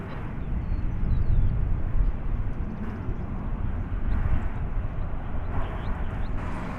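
American Airlines flight 817 departs from DFW Airport, a steady low jet rumble swelling slightly and fading, heard at a distance with no talk.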